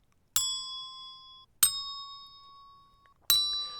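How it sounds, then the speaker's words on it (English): Three desk bells from a chromatic scale are struck one at a time, each a bright, clear ding that rings out and slowly fades, with the third pitched higher than the others. "I have a folder containing a chromatic scale of desk bells"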